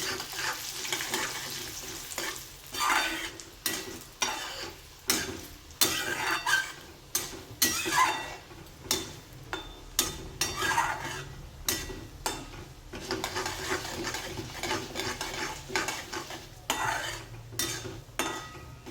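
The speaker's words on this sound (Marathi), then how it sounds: "ती मस्त गुलाबी रंगाची होईपर्यंत परतून घ्यायची आहे." White urad dal is dry-roasted and stirred in a pan, with a rapid run of rhythmic scraping and rattling strokes of the spoon against the metal, close and steady throughout.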